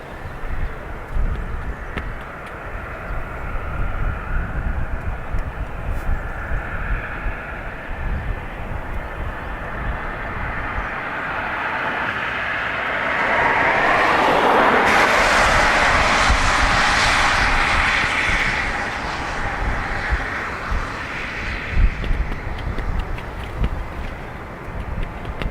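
A jet airliner takes off from runway 28 right at Dublin Airport, its engine roar steady and broad throughout, swelling louder mid-clip as it passes before easing off, with some wind noise.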